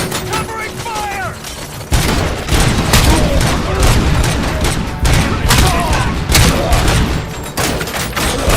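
Dense gunfire in the action game Robocop: Rogue City, loud overlapping bursts and heavy thuds in a continuous barrage, with shouted voices mixed in.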